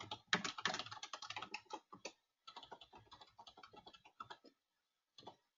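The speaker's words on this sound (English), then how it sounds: "So when I type in my text" Typing on a computer keyboard, a fast run of light key clicks in uneven bursts with brief pauses, close and fairly quiet, no talking.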